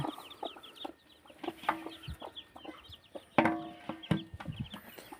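A hen clucks in short bursts close by, with other chicken calls and soft peeping around it, uneven and intermittent.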